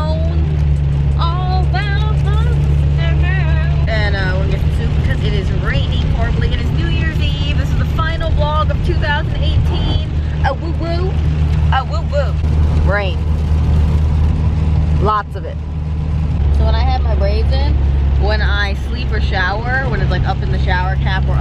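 A car's engine and road noise make a loud, steady low rumble inside the cabin throughout the drive, while people talk continuously over it.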